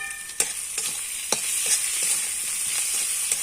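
Spices with salt, turmeric and chilli sautéing in a pan for a banana flower curry make a loud, steady high-pitched sizzle, punctuated by several close spoon scrapes and taps; no voices.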